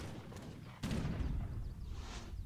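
Cannons fire in the real-time strategy game Age of Empires III during a deathmatch battle: a sharp burst of booming shots that blends into a sustained, rumbling barrage amid battle noise.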